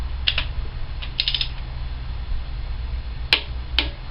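A socket wrench tightens cylinder head bolts on an EB Falcon engine, giving a few quick ratcheting clicks in short bursts over a low steady hum.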